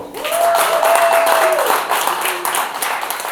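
Applause for award recipients at a lifetime achievement awards ceremony at Boricua College in New York City, a steady crowd of clapping hands filling the room, with a voice or whistle-like tone briefly sounding over it.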